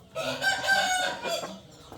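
A rooster crows once, loud and close, a drawn-out cock-a-doodle-doo heard on its own with no talk over it.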